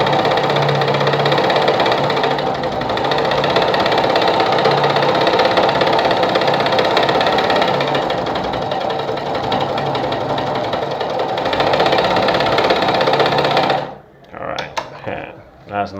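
A Sartina e-100 sewing machine with 26 built-in stitches whirs loud and close in one long continuous run of stitching, then stops with a few clicks and handling sounds at the end.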